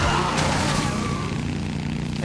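A motorcycle engine in the video game Dead Rising drones loud and steady, a continuous close-up roar with a slight rise in pitch and no pauses.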